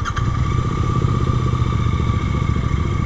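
A motorcycle engine running steadily on a bike trip, with a loud, close, continuous low rumble and throbbing exhaust pulses, some mechanical clatter, and no speech.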